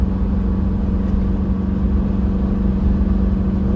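A 79-series truck engine labours uphill in 4th gear at a steady speed, a loud constant low drone with no break and no voices.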